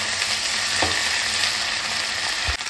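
Papaya and potato curry with chana dal cooking slowly in a pan, giving a steady, even sizzle with a couple of soft stirring knocks, close by and without talk.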